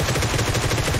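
Rapid automatic gunfire in a battle royale video game, a dense burst of repeated shots filling the whole moment, loud and close.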